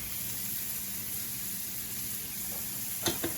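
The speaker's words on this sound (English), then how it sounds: "Big jumbo shrimp, right in that burning hot pan." Jumbo shrimp hitting a burning hot pan, a steady close hiss of sizzling oil that continues throughout, with a few brief clinks near the end.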